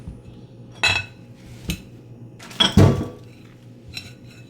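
Banana bread batter being stirred in a bowl, with a few scattered clinks and knocks of a utensil against the bowl, close by, with soft background hum between hits.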